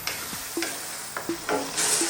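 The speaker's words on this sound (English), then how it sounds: "Let's cook these onions for about 4 to 5 minutes." Onions frying in a pan over medium-high heat, a soft sizzle broken by a few sharp stirring scrapes and clinks, close and fairly quiet.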